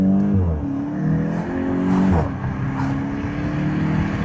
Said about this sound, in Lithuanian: Galim pasižiūrėti, kaip važiuoja šitie 2 litrai